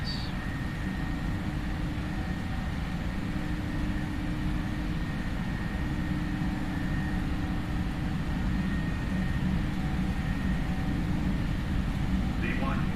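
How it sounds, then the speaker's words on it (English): A PMDG 737 flight simulator in Prepar3D roars steadily at takeoff thrust, a loud and constant engine rumble with a faint whining tone held through the whole stretch. "Takeoff thrust set."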